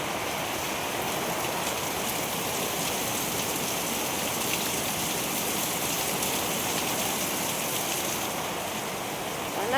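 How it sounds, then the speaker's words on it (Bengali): Heavy rain pours steadily outside during a long spell of wet weather, a dense, even roar of falling water that holds unchanged throughout with no voices. "আর বাইরে খুব জোর বৃষ্টি হচ্ছে।"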